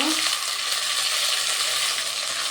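Ginger paste fries in oil with cardamom, cloves and a pinch of asafoetida, producing a constant bright sizzle with light stirring clinks, close and steady throughout.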